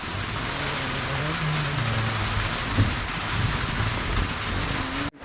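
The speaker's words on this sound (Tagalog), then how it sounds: "May ulan na sa wakas" Steady, heavy rain pours down in a constant dense hiss, with a low rumble underneath and a brief cutoff at the very end.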